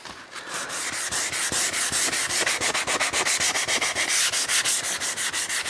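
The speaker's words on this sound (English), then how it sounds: "I'm just pushing down on a flat surface, and I'm just trying to get this a good scuff on the whole surface" A 3D printer build surface is scuffed by hand with an abrasive, pressed flat: fast, evenly spaced rasping strokes repeat in a steady back-and-forth rhythm, close and fairly loud, with no talking.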